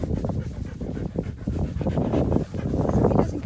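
Trooper the dog pants close by in quick, rhythmic breaths, with small whimpers mixed in, loud and steady throughout and with no voices over it.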